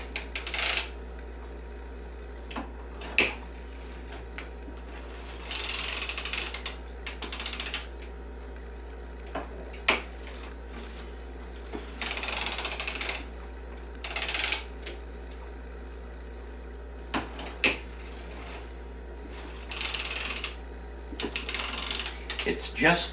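A circular sock machine knitting, its needles pushed down one at a time, giving a series of close mechanical clicks and ratcheting clacks with bursts of whirring crank noise between quieter pauses, under occasional talk.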